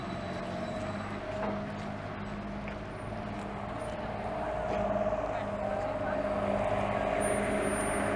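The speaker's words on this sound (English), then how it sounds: "We'll let this truck finish its turn." A truck turns on a Montreal street in winter, its engine a steady low rumble that swells slightly toward the end amid general street noise.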